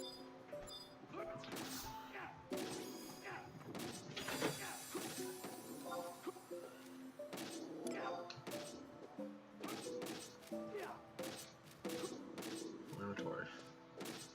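Video game skill effects in Beastmaster burst out as sharp crashes, whacks and explosive detonation hits in irregular bursts, layered with game music and interspersed with someone talking.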